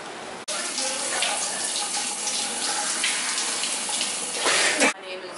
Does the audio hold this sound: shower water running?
yes